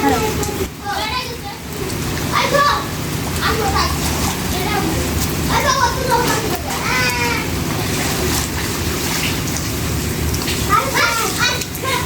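Steady rain falling with children's voices and playful chatter heard throughout, constant patter under the voices.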